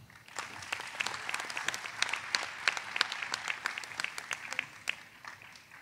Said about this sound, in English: Please join me in another round of applause for these candidates.